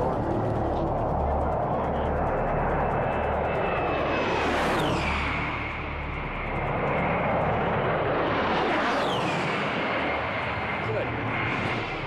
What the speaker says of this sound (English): Warthogs were a very interesting kind of plane because it's kind of eerie, because they get very low and they're just got this whine to it.